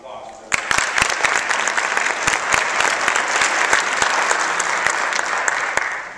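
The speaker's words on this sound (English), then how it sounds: "if we could give them a round of applause" Audience applause in a lecture hall at an event on hip hop, Black history and media literacy, starting abruptly and continuing as dense clapping with sharp individual claps standing out, steady and close for several seconds.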